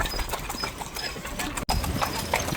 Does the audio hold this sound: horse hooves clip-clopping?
yes